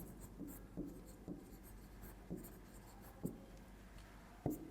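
Marker or chalk strokes tap and scrape across a classroom board in about eight short, evenly spaced bursts, quiet and close, with no talking.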